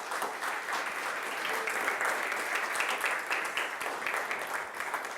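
A church congregation claps and applauds throughout a Spanish-language sermon, a dense, continuous wash of hands at a steady level with faint voices mixed in.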